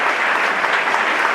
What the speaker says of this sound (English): Can we clap it up one more time?